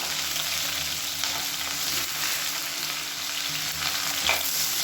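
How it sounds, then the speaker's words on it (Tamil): Onion sautéing with mint and coriander leaves in a pan for a kushka lunch, a steady broadband sizzle with faint stirring scrapes running throughout, fairly close and without talk. "இது எல்லாத்தையும் நல்லா வதக்கிக்கலாம்."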